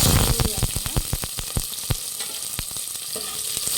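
Chopped onions frying in hot oil for a village-style fish curry, a loud close sizzle broken by a quick run of spatula scrapes and taps against the pan.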